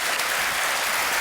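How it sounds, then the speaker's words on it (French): A studio audience on a French television show claps warmly, dense steady applause filling the room throughout without a break. "Applaudissements du public."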